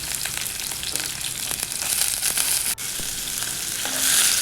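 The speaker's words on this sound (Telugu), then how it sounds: "ఆనియన్ వేసుకొని ఫ్రై చేసుకోవాలి" Chopped onions frying in hot oil in a pan for chicken biryani, a constant loud sizzle and crackle with occasional scraping from stirring, close up.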